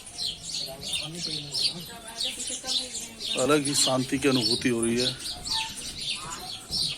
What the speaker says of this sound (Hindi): चहचहाट पक्षियों की